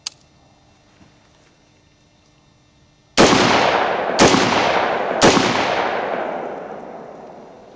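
Three loud gunshots fired a second apart from a firearm fitted with a mounted JetBeam flashlight, each sharp crack ringing out into a long decaying echo over an otherwise quiet outdoor range.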